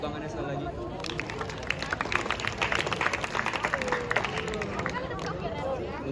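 An audience at a school literacy event claps in a dense burst of applause, with crowd chatter and hubbub mixed in throughout.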